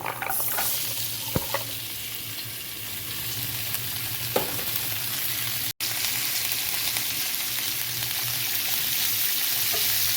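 Hyacinth beans with green chili stir-fry in a pan, giving a constant close sizzle broken by occasional spatula scrapes and taps and one brief dropout partway through.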